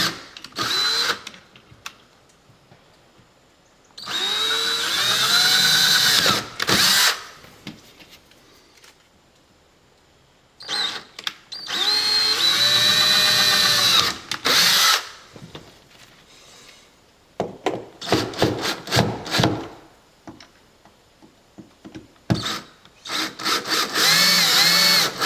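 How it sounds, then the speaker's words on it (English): Power drill with a 1/8 inch bit pre-drilling screw holes while installing a Larson storm door, loud whining bursts of several seconds each separated by quiet pauses, rising and falling in pitch as the motor spins up and stops. "pre-drill these other screws. I'm using an 1/8 of an inch drill bit, as they recommend."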